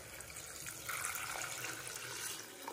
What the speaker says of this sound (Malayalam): 3 കപ്പ് വെള്ളം നമ്മൾ ഈ കുക്കറിലേക്ക് ഒഴിച്ചു കൊടുക്കുന്നുണ്ട്